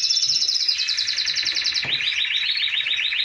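Young aviary chicks chirping while being handled for ringing, a rapid, steady stream of high, close cheeping that continues without a break.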